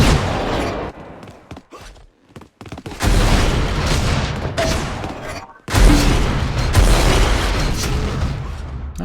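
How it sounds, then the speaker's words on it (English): Rocket launcher blasts in Unreal Tournament, loud booming explosions in two heavy bursts separated by a brief quieter gap, with dense rumbling debris noise under them. "Oh, nice rockets."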